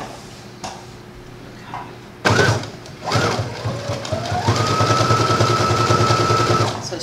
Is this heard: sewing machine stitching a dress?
yes